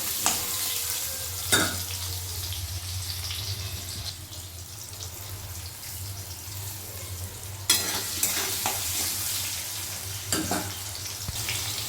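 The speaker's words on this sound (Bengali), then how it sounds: "আলুটা একটু লালচে করে ভেজে নিতে হবে" Oil sizzles steadily in a pan while salted potatoes fry until reddish, with occasional stirring scrapes and clatters over a low hum.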